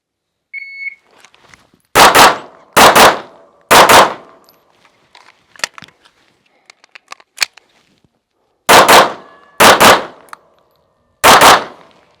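Pistol shots ring out in a timed El Presidente shooting drill, with a start beep and then three quick bursts of loud gunfire, a quiet pause, and three more shots, all sharp and close.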